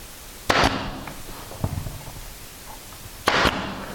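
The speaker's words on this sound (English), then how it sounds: "I can even stitch this thing together with this nail gun all the way down to the lower miter." A nail gun drives nails into wood trim, stitching it down toward a lower miter: two sharp, close pneumatic bangs about three seconds apart, with faint handling knocks between them.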